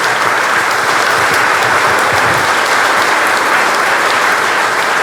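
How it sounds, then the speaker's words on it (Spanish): A church congregation at a priest's birthday celebration breaks into loud, sustained applause, a thick steady roar of many clapping hands with no talk over it. "Le damos un fuerte aplauso,"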